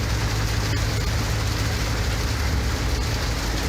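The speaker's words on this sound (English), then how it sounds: "Now it's changed to rain." Heavy rain, just after hail, pelts a car driving on a Midwest highway, a dense, constant roar of drops on the body and windshield over low road and engine rumble, loud and unbroken throughout.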